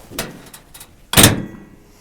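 A panel on a DTZ 5504 mini tractor with a turbo is shut: a few light metallic taps, then one loud, close, solid thunk that fades quickly.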